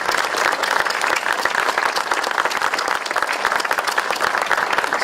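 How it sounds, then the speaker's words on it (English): A large audience at a celebration in the Louisville Assembly Plant claps continuously, a dense, steady roar of applause filling the space with no pauses. "So let's start off by giving yourselves a round of applause."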